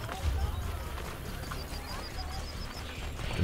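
Horse hoofbeats clatter in a steady galloping rhythm, moderately loud, over a low rumbling background, in the game Assassin's Creed: Brotherhood.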